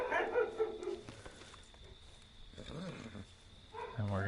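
Indoor dogs bark and whimper in short intermittent bursts, fairly close, reacting to someone outside, with quiet gaps between the yips.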